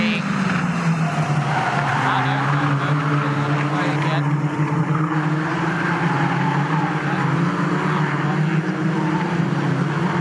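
Caterham Seven 270R race cars race at Snetterton, engines droning loudly and continuously with rising and falling pitch, under excited race commentary.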